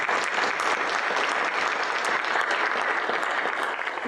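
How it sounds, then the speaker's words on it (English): Warm applause from a forum audience for Mitch, thanked for his service, a steady, dense burst of clapping filling the room throughout. "give a warm round of applause to Mitch for his service"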